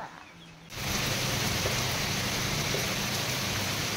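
Heavy rain falls in a dense, continuous hiss that starts suddenly after a brief quiet moment and stays steady and fairly loud throughout.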